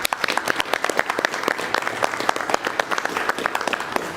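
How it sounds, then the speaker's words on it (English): Audience applause at a commission meeting, with dense, sharp individual claps forming a steady ovation that carries through the whole stretch at a fairly close, loud level. "Let's give them a round of applause."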